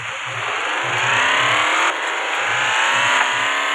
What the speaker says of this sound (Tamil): இப்போ நம்ம வந்து வண்டி ஓட்ட போகிறோம்.